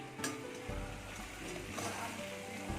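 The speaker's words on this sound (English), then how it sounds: "At the side the chicken is frying" Steady, low-level sizzling of chicken frying in a pan, a continuous crackling hiss with faint background clatter and no speech.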